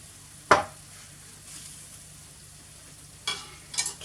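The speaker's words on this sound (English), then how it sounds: "here we have it. It's sizzling away." Sticky sesame cauliflower garnished with spring onion sizzles softly and steadily in a pan, broken by a few sharp stirring bursts, with no talking.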